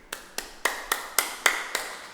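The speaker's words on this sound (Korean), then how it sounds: "그 다음에 이제 목 뒤 박수가 있어요" Seven sharp hand claps behind the neck in a steady, evenly spaced rhythm during a stretching exercise, close and crisp with no talk over them.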